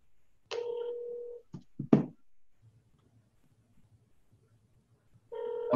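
A telephone call is placed: a steady ringback tone sounds, then a couple of sharp knocks or handset clicks, a quiet stretch with faint low hum, and the ring tone starting again at the end.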